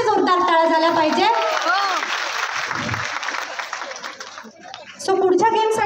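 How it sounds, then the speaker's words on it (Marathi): A crowd at a lively women's game-show celebration breaks into a few seconds of hearty applause for a contestant, the clapping framed by a loud amplified voice talking before and after. "एका प्रार्थनासाठी जोरदार टाळ्या झाल्या पाहिजे"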